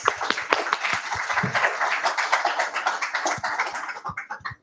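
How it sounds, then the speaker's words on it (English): An audience at a Cloud Native London tech meetup applauds a speaker, a dense burst of clapping from many hands that thins out near the end. "Round of applause."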